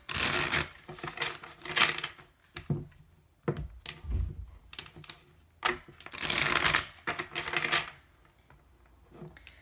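Light Seer's Tarot cards are shuffled by hand in repeated bursts of riffling and soft slaps, close and fairly quiet, separated by short pauses.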